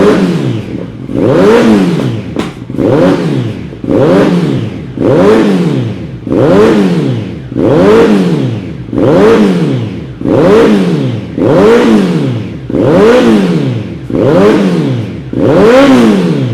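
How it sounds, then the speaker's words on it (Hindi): A Kawasaki Z900 fitted with a titanium header and free-flow exhaust revs repeatedly, about nine deep, bassy throttle blips in a steady rhythm, each rising and falling, loud and close with no talking. "भाई ये ज़्यादा लाउड एग्जॉस्ट नहीं है, काफ़ी बेसी है"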